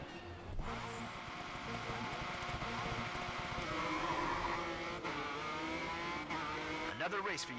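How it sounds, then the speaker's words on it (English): Racing video game car roaring steadily with engine revving and tire squeal, a continuous loud drone with shifting pitch under a speaking voice. "You can hear my car in the background."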